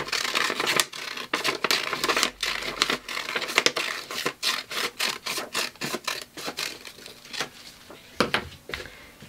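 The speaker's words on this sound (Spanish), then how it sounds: "Y aquí en este otro pedacito vamos a cortar la otra gola." Scissors cutting fabric for a blouse collar, a close series of crisp snips and rustles in an irregular rhythm.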